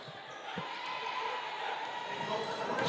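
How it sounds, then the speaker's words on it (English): Steady murmur of a small crowd in a gym during a women's college basketball game between Vol State and Lawson State Community College, with a few sharp ball bounces on the hardwood under the continuous hum. "Let's give you a little crowd noise here."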